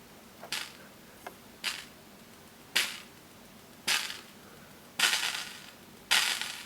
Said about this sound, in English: snare, the same circuit but with the snare capacitors,